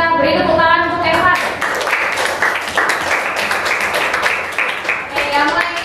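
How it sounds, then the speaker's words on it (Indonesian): A class in an ICT lesson breaks into a few seconds of scattered clapping for a student, with children's voices talking before and after the clapping. "kita beri tepuk tangan untuk Eva"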